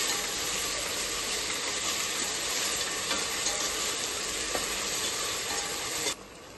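Ginger garlic paste and mint sautéing in a hot pan, a loud, continuous frying sizzle with faint stirring scrapes that carries on almost unbroken and drops away abruptly just before the end.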